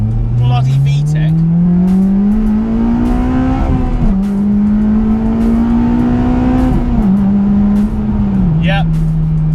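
A naturally aspirated K20A engine in a Honda Civic FD2 Type R revs hard into VTEC on a back road, a loud close howl that climbs in pitch through several pulls, each broken by a short dip between them.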